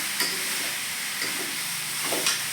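Potato vegetable curry (sabzi) stirred and frying in a pan, a steady loud sizzle with intermittent scrapes of the spoon, no voices.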